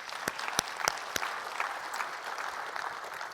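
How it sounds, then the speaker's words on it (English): Scattered hands clap at a data technology session, a few sharp, distinct claps ringing out first before thinning into a lighter, patchy round of applause. "So I'll just give him a round of applause."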